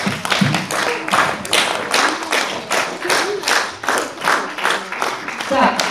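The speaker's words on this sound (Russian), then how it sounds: "Ваши аплодисменты." Audience claps at a children's choreography award ceremony, with a rhythmic, evenly paced clapping in unison, about two beats per second, moderately loud throughout, with a few voices faintly underneath.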